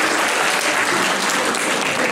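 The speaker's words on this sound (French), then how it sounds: "tous les applaudir" Sustained audience applause, a thick, even roar of clapping from a large crowd, loud and unbroken for the whole stretch.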